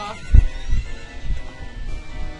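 Horse neighing in the video game Voyager of Time, a short whinny followed by lower snorting sounds, moderately loud and close.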